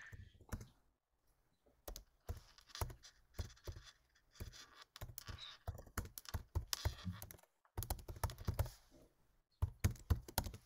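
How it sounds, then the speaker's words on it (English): Rapid bursts of typing on a computer keyboard, close and fairly quiet, with clustered keystrokes separated by brief pauses and no talk over them. "I hear typing."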